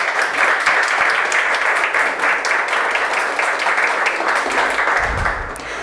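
Warm applause from an audience at a municipal council special session honoring Afro-Latin women, steady dense clapping filling the hall for several seconds before fading at the end.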